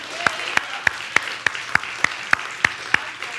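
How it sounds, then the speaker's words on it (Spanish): Church congregation applauding during a Spanish-language worship service, sharp even claps repeating about three times a second, loud and close, with faint speech underneath. "se le merece un aplauso al Señor"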